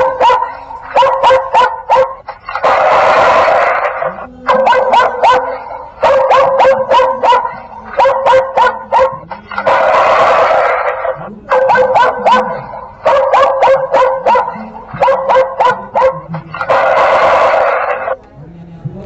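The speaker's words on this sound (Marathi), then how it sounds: "अशा प्रकारचे आवाज आपल्याला ऐकू येतील। कुत्र्याच्या आहेत," Recorded dog barking played from an animal repeller speaker, loud and close, in repeated bursts of sharp barks alternating with broader howling or growling passages, with no talk over it.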